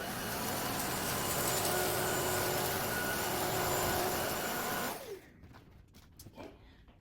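A Klarpul cordless vacuum cleaner runs with a loud, steady whine while sucking up goldfish crackers, then switches off and spins down, leaving a few faint clicks and handling noises.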